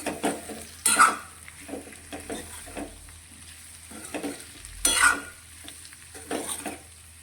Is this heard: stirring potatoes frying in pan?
yes